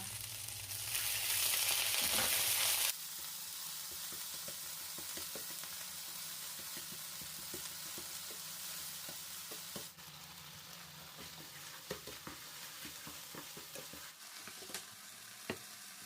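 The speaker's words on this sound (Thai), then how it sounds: "นำข้าวลงไปผัดคลุกกับกะปิได้เลยค่ะ" Cooked rice is stir-fried with Thai shrimp paste and a little stock in a pan, starting with a loud burst of sizzling that settles into a steady fry with repeated scraping and tapping stirs.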